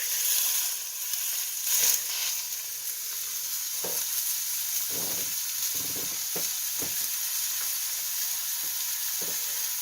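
A smash burger patty sizzles steadily in a hot pan, a loud continuous hiss with occasional pops and soft scraping knocks, close up with no talking.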